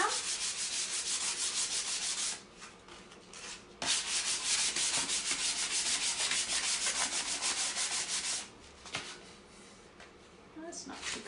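Hand sanding a wooden board during a salt-wash painting project: steady, close scratchy rubbing strokes that run continuously, break briefly twice, then resume, with a voice talking now and then over the work.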